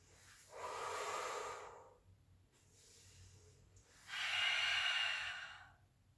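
Slow, audible breaths during a Pilates routine: a long exhale and then an inhale, two broad breathy swells separated by a quieter pause, close and soft with no talking over them.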